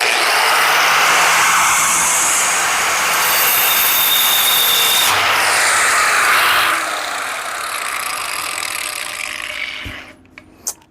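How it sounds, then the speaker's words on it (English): A grinding wheel cuts into a steel bread knife blade, a loud, continuous broadband grind with harsh high-pitched hiss that shifts in tone partway through and then tapers off near the end. "Gonna completely eat this grinding wheel."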